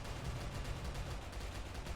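Rapid, dense gunfire from an American tank's 90mm main gun and .30 and .50 caliber machine guns in a Minecraft war mod, a continuous loud rattling barrage with steady repeated bursts throughout.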